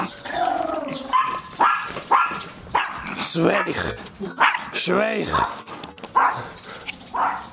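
A small dog barks in sharp, repeated yaps close by, mixed with whimpery yips, while a person talks over it.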